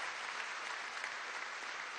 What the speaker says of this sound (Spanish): Delcy Rodríguez, vamos a darle un aplauso a esta líder joven.